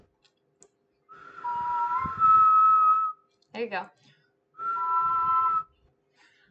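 A person whistles two sustained steady tones, close and clear, separated by a short breathy blowing sound and a brief spoken phrase.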